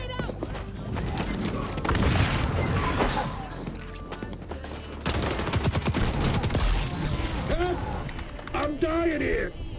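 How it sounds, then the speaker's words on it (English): Grenade blast and rapid gunfire from the shooter video game XDefiant, dense and loud throughout, with bursts of shots and voices talking over the action. "Grenade out!"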